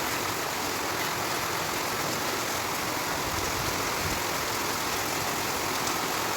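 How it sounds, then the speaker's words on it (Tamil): Heavy rain falls in a dense, continuous hiss, loud and steady throughout with no voices. "மழை பெய்யுது."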